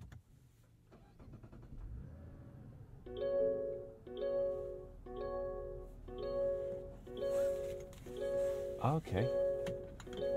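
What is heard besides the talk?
Mazda CX-90 startup warning chimes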